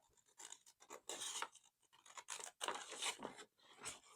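Scissors snip through envelope paper in a quick series of crisp, rasping cuts, close by, with brief pauses between strokes.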